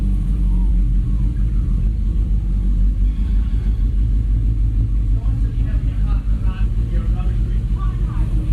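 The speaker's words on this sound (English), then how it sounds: "My neighbor's motorcycle is going by" Neighbor's motorcycle going by outside, a loud low rumbling engine swelling and fading across the whole stretch, with no one talking over it.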